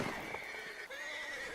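A horse in Red Dead Redemption 2 gives a short, fairly faint whinny with a quavering tone, alone without talk.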